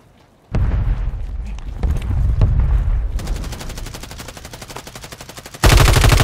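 In the Call of Duty video game, a machine gun fires loud, rapid bursts. After heavy booming blasts, the gun settles into a steady rattling stream of shots and ends in a sudden louder burst, with no voices.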